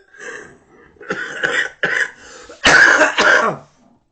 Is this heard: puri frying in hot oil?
no